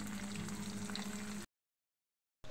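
Tofu (tokwa) toasting in a pan, a steady sizzle for about a second and a half before cutting to silence, then resuming briefly at the end.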